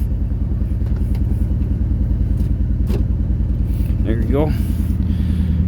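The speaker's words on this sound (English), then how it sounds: "Yeah, that's right, Ford FE V8." A 1976 Ford F150 with a Ford FE V8 idles nearby with a deep, lumpy, steady rumble, while someone speaks briefly over it.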